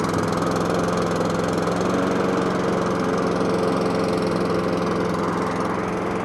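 Masport Rotarola rotary lawn mower engine running steadily after being choked, a close, loud continuous drone with a low hum and buzzing overtones that holds even for the whole stretch, no talk over it.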